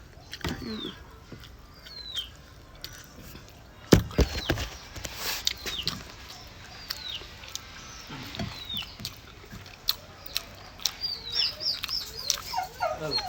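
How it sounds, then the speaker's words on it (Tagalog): A dog whimpers and makes short high whines amid scattered thumps and pattering, with a sharp knock partway through; no one speaks. "Dalawa kasi aso namin guys."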